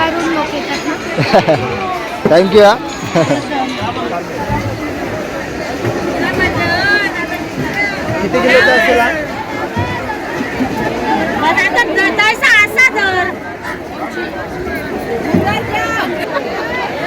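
Dense crowd chatter fills the busy Malad fish market in Mumbai, a steady babble of many voices close around, with occasional louder calls rising above the hubbub and nearby speech.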